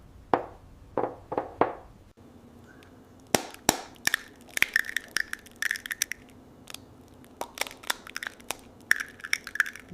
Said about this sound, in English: For the omelette, crack eggs into a mug.